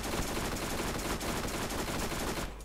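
Rapid automatic gunfire in the video game Borderlands, a dense, loud, continuous burst of shots that cuts off abruptly at the end.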